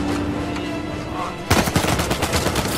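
Rapid gunfire from Uncharted 4 breaks out midway, a loud close volley of repeated shots after a quieter stretch of game ambience.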